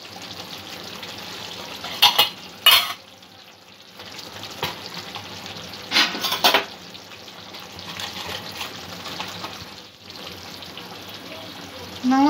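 Rohu fish malai curry gravy sizzles and bubbles steadily in a pan, with a few louder bursts of stirring or spattering breaking through the continuous frying hiss.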